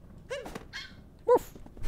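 A dog in the video game Super Mario Odyssey gives a few short, fairly quiet barks and yips, spaced irregularly over a faint background.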